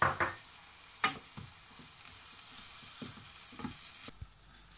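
Beaten egg for an omelette fries quietly in a pan while a utensil stirs and scrapes it, making soft sizzling and a few sharp clinks and scrapes.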